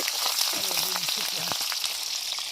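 Onions sizzle steadily in a hot pan alongside a fish head, a continuous bright crackle with a few brief low clatters of stirring and faint voiced sounds underneath.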